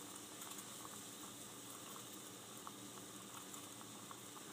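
A stovetop espresso maker bubbles and gurgles softly as the coffee finishes brewing, with a steady low hiss and faint popping throughout and no voices.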